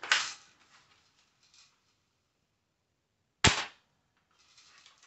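Two sharp airsoft gun shots striking a BB trap target, each a crisp close snap with a brief rattle after, separated by a few seconds of near silence.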